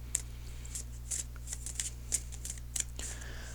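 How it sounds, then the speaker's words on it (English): Tarot cards shuffled by hand in a quiet room, giving soft, scattered riffling clicks and brief slaps over a steady low hum. "Okay, so shuffling the cards, and a couple cards came out."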